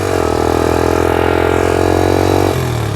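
A 1982 Honda XL80S motorcycle engine buzzes steadily and loudly while riding, a close, constant droning note that dips slightly in pitch near the end.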